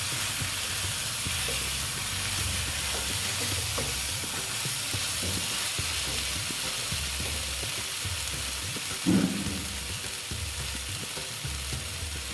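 Cauliflower florets stir-fried in a pan for a Bengali cauliflower-potato dish with Gobindobhog rice, a steady broadband sizzle running throughout with soft scraping stirs and one brief louder clatter near the end; no talking.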